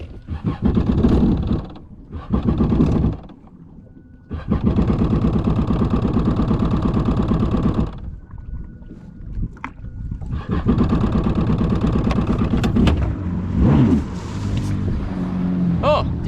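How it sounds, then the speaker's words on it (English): A jet ski engine cranks and sputters in several hard, loud bursts with gaps between, struggling to catch before running rough, heard close and outdoors at sea. "The ski did not want to start."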